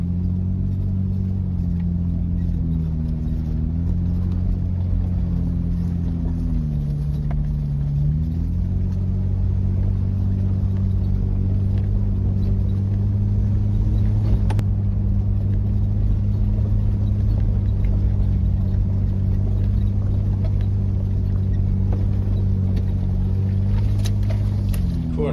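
A 4WD drives up a twisty, dusty section near the top of the Hart Spur Track in the Victorian High Country, its engine giving a steady, loud low rumble that shifts in pitch briefly early on, with no talk.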